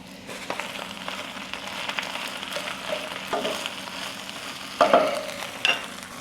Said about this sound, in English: I think what I'm gonna do is just wilt this spinach down right in that oil